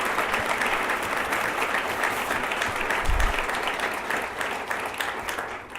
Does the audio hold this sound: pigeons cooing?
no